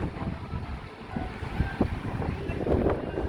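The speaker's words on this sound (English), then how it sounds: "all that wild wind" Strong, wild wind gusts across the Blackpool promenade on a stormy day, a continuous loud roaring rumble that swells and buffets the microphone with no voices.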